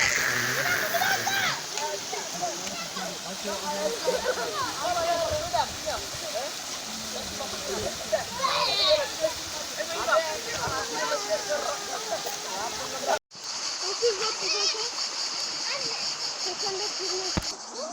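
Children splashing in a natural pool at a highland plateau, with near, continuous water splashes and churning mixed with kids' voices and adults talking throughout.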